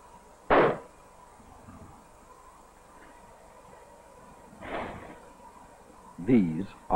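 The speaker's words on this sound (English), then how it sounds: "Confined and unconfined firecrackers." Confined and unconfined firecrackers go off as a sharp, loud bang followed by a couple of weaker bursts spread over several seconds, set against a quiet background with some brief voice-like sound.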